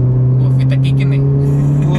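Honda CR-V engine pulling hard at speed, a steady low drone with a strong fundamental that climbs slightly, heard from inside the cabin under continuous road and wind noise.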